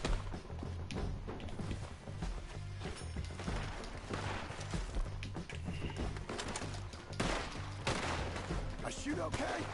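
Gunfire in the video game Red Dead Redemption 2, repeated shots crackling through a cluttered game mix with horse hooves, birds and music, while a voice talks over it.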